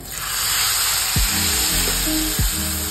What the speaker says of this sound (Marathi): ही आता फोडणी आपण टाकून द्यायची.